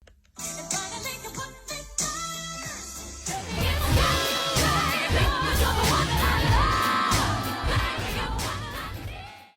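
A loud, dense jumble of singing voices overlapping in clashing keys, one song chorus layered in about five keys, with music and shouting piled on top of each other, chaotic and continuous.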